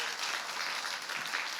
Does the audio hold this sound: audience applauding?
yes